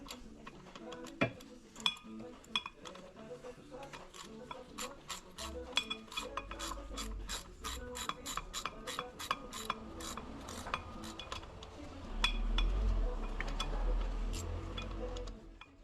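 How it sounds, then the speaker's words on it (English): Quick metallic ratchet clicks in a steady run while the transfer case of a Range Rover with a 4.4L diesel V8 is bolted to the rear of the gearbox, with a low rumble and other clatter around them. Nobody speaks. "Start by bolting the transfer case to the rear of the gearbox."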